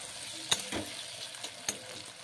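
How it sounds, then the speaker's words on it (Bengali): Chopped tomatoes sizzle in a frying pan while a utensil stirs them, giving a low hiss with a handful of sharp scrape-and-tap strokes; close, quiet, with no talking. "হালকা নাড়া দেবো"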